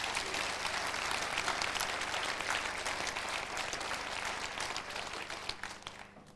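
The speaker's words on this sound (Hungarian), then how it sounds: "a színfalak mögött ők hallották ezt a tapsot" An audience at a Kisalföld dance ensemble's 25th anniversary jubilee stage show claps continuously, a full, even wave of applause that holds steady and then begins to taper off near the end.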